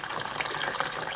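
Gallon-jug water pouring into a container, a steady splashing gush filling it, close and alone.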